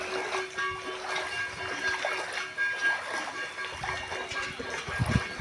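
Someone wading through knee-deep floodwater, with soft, continuous splashing and trickling close by and a few heavier sloshes near the end.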